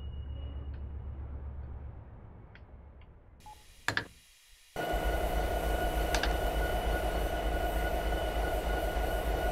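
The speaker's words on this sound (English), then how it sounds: "So here it is, the train." Train in Train Simulator 2017 rumbling with a steady low mechanical drone, cutting out briefly before a sharp clank, then returning louder and continuous with a tonal whine, alone without talk.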